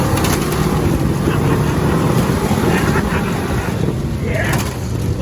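VW rail buggy with an 1835cc engine backing up in reverse outdoors, a steady rough engine drone with wind noise over the microphone.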